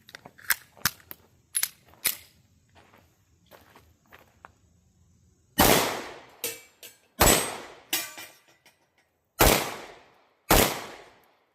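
Pistol firing hand-loaded rounds: several sharp, loud shots spaced a second or two apart in the second half, after a stretch of quieter shuffling and clicking handling noises.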